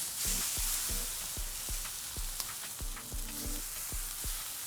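Steaks laid onto a hot barbecue grill sizzle with a continuous hiss, while regular low thumps repeat about twice a second beneath it and sharp crackles pop out from time to time.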